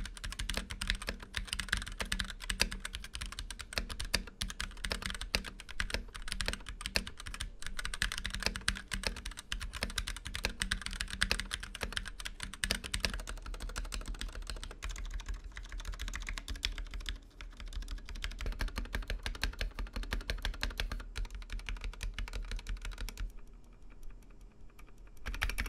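Steady fast typing on a HyperX Ducky One 2 Mini mechanical keyboard fitted with a thinner custom RGB spacebar that adds a clicky surface rattle, close and continuous without talk, trailing off briefly near the end.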